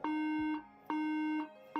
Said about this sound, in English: 3 beeps, meaning a RAM-related startup issue.